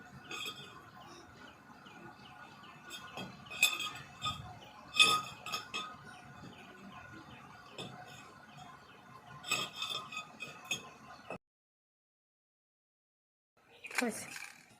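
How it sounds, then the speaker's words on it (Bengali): Knife chopping raw jackfruit into small pieces on a board, with scattered light clinks and taps in irregular bursts, a few sharper knocks, then a brief silence before a final rustle. "এবারে ছোট ছোট করে কেটে নেব"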